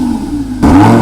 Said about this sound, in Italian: Accompagnati dal rombo del suo V10.